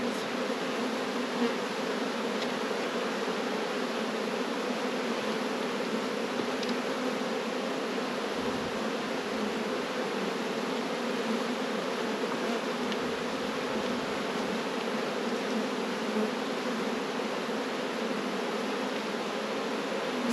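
Many honey bees buzz steadily around a hive, a dense, even drone lasting throughout at moderate loudness with no talking.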